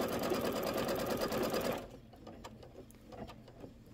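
A Kimberbell embroidery machine stitches the tack down on a birdhouse project with a loud, steady rapid whir that stops abruptly near the halfway point, leaving faint clicks and quiet room noise.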